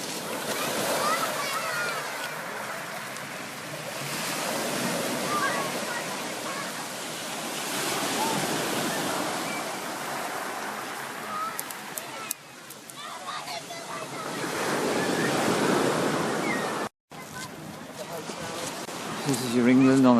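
Waves break and wash continuously onto the pebbly, sand-poor beach at Sidmouth on an August bank holiday afternoon, a broad steady roar of surf with a swell and a fresh surge toward the end while someone talks over it.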